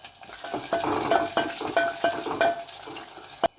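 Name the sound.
onion frying in oil with garlic and curry leaves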